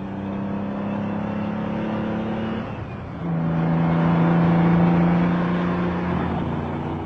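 A Mazda car passes by on the road, its engine whir swelling and shifting in pitch as it goes past, fairly loud and steady over several seconds with no talking.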